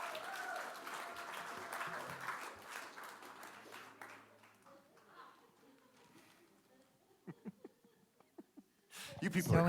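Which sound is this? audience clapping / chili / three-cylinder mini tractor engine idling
audience clapping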